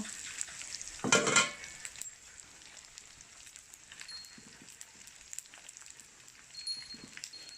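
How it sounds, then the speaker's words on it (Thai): Pork rind with fat goes into hot oil with a brief loud burst of sizzling, then settles into a faint, steady crackle and light spattering in a quiet kitchen, with no talking. "นี่เราก็นำทั้งหมดลงไปทอดเลยค่ะ"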